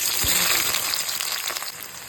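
Spices with bay leaf hitting hot oil for a local chicken curry, a loud steady sizzle and crackle up close, with no talking.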